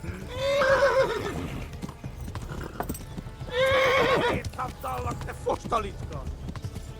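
A horse in Kingdom Come: Deliverance neighs loudly twice over rapid clip-clopping hoofbeats, with steady galloping rhythm throughout.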